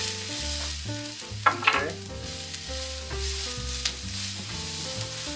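Rice and garlic frying over medium-high heat in a pan for Mexican Spanish rice, a steady loud sizzle with scraping stirs and a few sharp clinks of the utensil, and a brief word spoken at the start.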